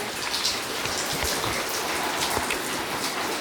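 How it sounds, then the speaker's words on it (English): Steady rain patters on surfaces around an abandoned house on a volcanic island, a dense, even hiss of drops close by with scattered individual taps, continuous and loud with no voices. "the rain has kind of subsided so we can explore this home"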